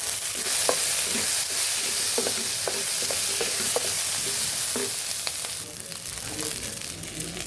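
Cumin and coriander seeds frying in a pan for gongura prawns, a steady hissing sizzle broken by irregular stirring scrapes and light taps, close and fairly soft, with no talking.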